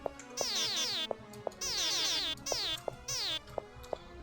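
Cartoonish cat meows from the Life Simulator fangame, several bright rising-and-falling calls in quick bursts with short pauses between, accompanied by game music and small clicks.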